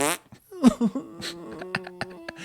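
A man blows wet, buzzing raspberries with his mouth in imitation of a fart, a few short close bursts with brief voiced sounds between them.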